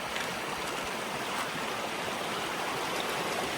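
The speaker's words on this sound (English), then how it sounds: "Got a nice little waterfall" Small waterfall on a stream on a large wooded lot, a steady broadband rush of falling water heard close and continuous with no other sounds.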